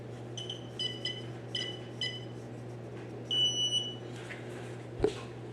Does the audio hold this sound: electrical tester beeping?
yes